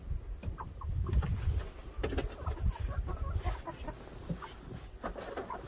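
Backyard chickens raised for eggs clucking and murmuring close by, with scattered soft clucks and short calls over rustling movement and low rumbling noise.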